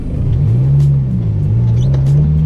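A Lamborghini Huracan drives along with a loud, close engine rumble, its pitch swelling and dipping slightly as it cruises, with no speech.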